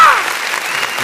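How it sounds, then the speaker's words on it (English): A studio group claps together on a radio show, a dense, loud burst of many hands that carries on steadily through the moment while a voice trails off at the start. "Supposed to do the clapping after we say it"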